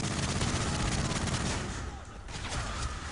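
Rapid automatic gunfire in Call of Duty MW3 comes in dense, loud bursts that ease off briefly partway through and then pick up again, with no speech.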